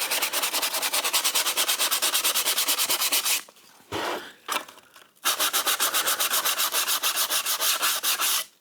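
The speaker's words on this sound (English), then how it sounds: "just sand off all the excess mess, because I just want that gone" Rapid, even back-and-forth sanding strokes scrub excess glue off the back of a classical guitar, a loud rhythmic rasp that pauses briefly midway before resuming at the same brisk pace.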